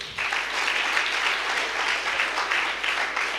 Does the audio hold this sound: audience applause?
yes